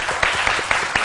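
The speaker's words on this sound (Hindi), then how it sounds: "इसके लिए तालियां." A studio audience on a chat show applauds an actress, a short burst of dense clapping with a few sharper claps, close and steady.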